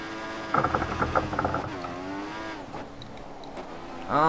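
Simulated Formula 1 car in F1 2014, a racing game, in wet conditions at Malaysia: a sliding, slithering engine note rising and falling in pitch with mechanical rattling, loud near the start and easing off later.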